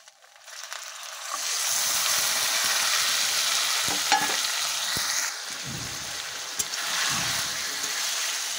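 Goat meat drops into a hot pan of reddened spices and fries with a steady, close sizzle and the scrape of stirring, holding loud and even throughout.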